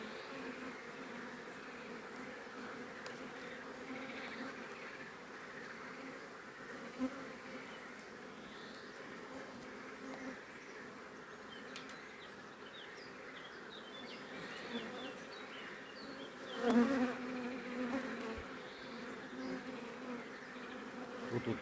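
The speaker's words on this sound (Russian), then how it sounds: "Вот тут пчела выходит" Angry bees swarm and buzz around an open horizontal 32-frame hive, a steady dense drone close by, holding at a constant level with a brief louder surge near the end and no talking.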